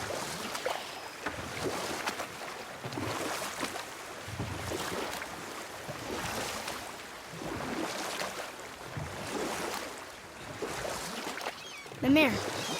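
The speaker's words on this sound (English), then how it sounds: "Keep rowing towards the statues of the oarsmen" Oars pull a rowboat through water in the God of War video game, sounding as steady, rhythmic strokes and splashes repeating every couple of seconds over a soft wash of wind and water.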